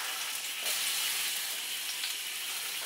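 Sweet peppers sizzle in olive oil alongside onions in a pan for a stir fry, a continuous, fairly quiet hiss and crackle with no voices.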